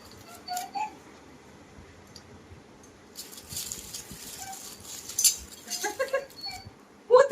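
Spoons clinking against dishes while food is served at home, scattered light metallic taps and clinks, mostly faint with a few sharper clinks toward the end, no voices.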